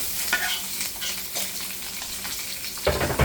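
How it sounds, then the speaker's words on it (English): Onions sizzling in a pot beside a seared pot roast, a bright steady frying hiss with scraping stirs, and a louder splash of sizzle near the end. "Now I'm going to throw my onions in."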